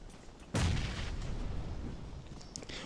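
Molotov cocktail in a multiplayer shooting game, bursting with a single sudden loud whoosh-boom about half a second in, then a broad roaring fire-like wash that lingers and slowly fades.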